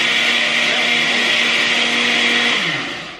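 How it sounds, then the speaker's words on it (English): A blender blending a drink with water whirs loudly and steadily at close range, its motor pitch dropping slightly as it winds down at the end. "And now we blend."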